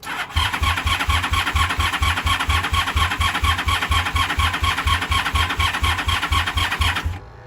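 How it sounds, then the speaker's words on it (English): A 1983 Honda Shadow VT750C motorcycle with a weakening battery cranks steadily for about seven seconds, its starter churning in a fast, even rhythm without the engine catching, then cutting off. "I don't think she's gonna start. Killing the battery."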